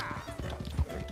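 Hoofbeats of a Missouri Foxtrotter horse in Red Dead Redemption 2, a steady clip-clop over a low rumbling game soundscape, with one heavier thud near the end.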